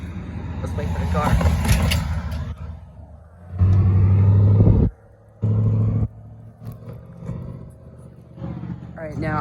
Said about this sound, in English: Let's wait for the car.